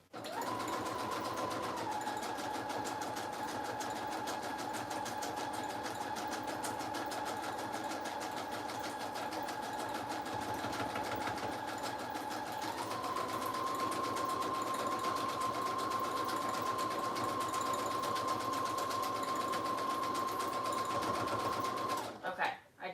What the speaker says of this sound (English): I'm just going to sew all the way around.